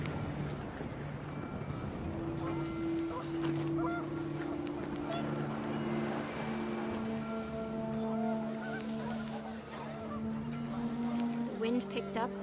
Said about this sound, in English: wind picked up, and panicked geese appeared and quickly went